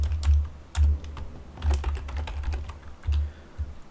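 Code being typed on a computer keyboard: close, bursty clicking and clacking in short runs with brief pauses between them, no voices.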